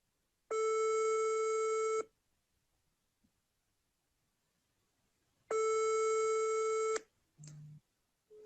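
A telephone busy signal follows a rejected call: two long, loud, even tones separated by silence, then short clipped fragments at the end, with no one speaking.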